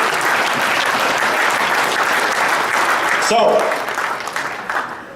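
Audience applause fills a keynote speech at a fatherhood awards banquet, a steady loud wash of clapping that fades toward the end, with a voice briefly speaking over it.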